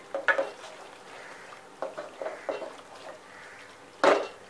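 A spoon stirs egg masala with salt and coriander in a pan, producing soft scraping and a few sharp metallic clinks against the pan in a quiet kitchen.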